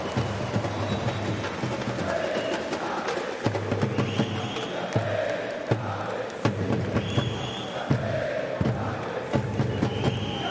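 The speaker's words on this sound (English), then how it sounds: "this Brazilian crowd has given us something rather unique" Brazilian crowd at a Counter-Strike esports match during a major event in an arena in Rio, roaring and chanting in a sustained mass of voices, with rhythmic stomps or claps punctuating it.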